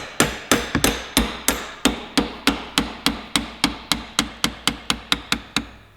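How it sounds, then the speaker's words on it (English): Sharp metallic taps from hammering a quarter-drive ratchet extension set inside the bar end of a Suzuki GSX-R1000 handlebar. About twenty evenly spaced strikes ring out close and loud, each one decaying briefly, with no voices. "I put a quarter drive ratchet extension in there, and then I will tap on it"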